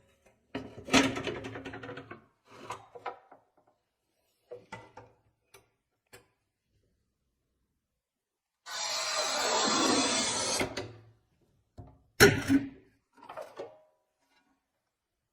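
Montolit Masterpiuma P5 tile cutter handling porcelain tile: scattered clicks and knocks, then a scraping scoring pass lasting about two seconds, followed by a sharp snap and a few light taps.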